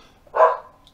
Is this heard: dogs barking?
yes